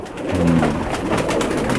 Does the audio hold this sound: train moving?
no